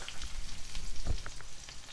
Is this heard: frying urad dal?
yes